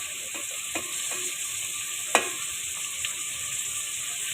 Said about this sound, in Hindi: थोड़ा सा फ्राई कर लेंगे गाजर को। 2 से 3 मिनट बस फ्राई करना है।